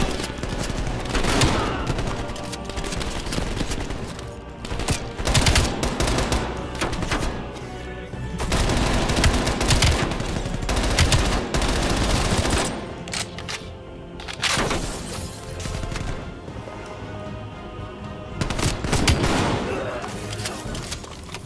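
Rapid gunfire from the Call of Duty Cold War campaign, dense bursts of shots and booms rolling almost continuously with short lulls, loud and close throughout.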